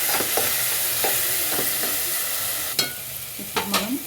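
Spice paste frying in a pan for vegetable pulao, a low continuous sizzle with a few sharp scrapes and taps from a stirring spoon.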